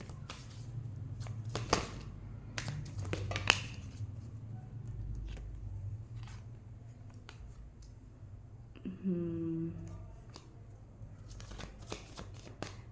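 Tarot cards being shuffled by hand, several soft papery riffles and flicks with a longer rippling shuffle near the end, close and quiet over a low background hum.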